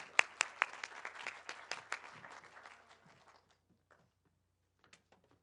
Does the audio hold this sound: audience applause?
yes